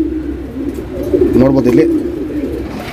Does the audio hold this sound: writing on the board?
no